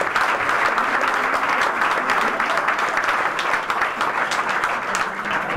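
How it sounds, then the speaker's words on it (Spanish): Spectators applaud the challenger boxer at an official European Championship weigh-in, a steady crowd clapping that holds evenly throughout with faint voices mixed in. "El aplauso para el aspirante de retadores"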